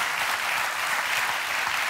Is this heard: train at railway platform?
no